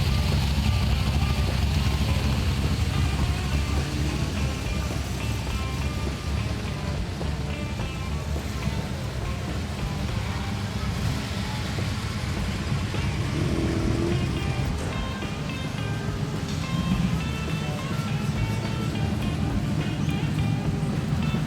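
A tough-sounding car with an unusual exhaust at the Cooly Rocks On car show, a continuous loud engine and exhaust rumble throughout, with little else audible.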